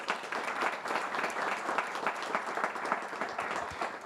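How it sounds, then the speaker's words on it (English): Dense applause from a conference audience for a panel of speakers, steady clapping for about four seconds. "How about a round of applause for our excellent panelists?"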